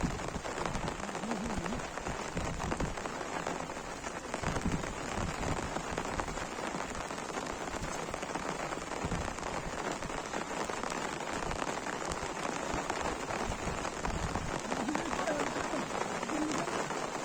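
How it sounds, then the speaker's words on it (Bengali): Heavy monsoon rain pours steadily on a farm on a rainy day, a dense, continuous hiss of drops on surfaces with no break through the whole stretch. "এখনো প্রচুর বৃষ্টি"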